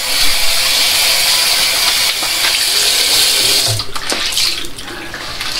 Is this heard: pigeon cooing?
no